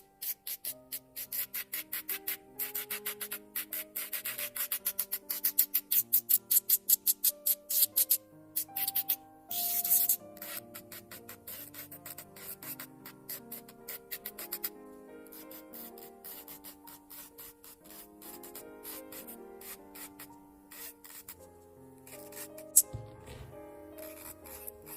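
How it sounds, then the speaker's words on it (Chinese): A low-speed electric nail drill fitted with a sanding band bit scores the surface of a press-on nail, giving quick scratchy rasping strokes in rapid bursts, close and fairly quiet, with faint background music. "我们使用到的是这颗纱圈刻模头，转速开到4。"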